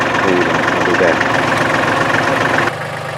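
A Kubota tractor stuck in deep mud idles loud and close with a steady, rough mechanical rumble. The engine note drops slightly near the end, and someone talks over it.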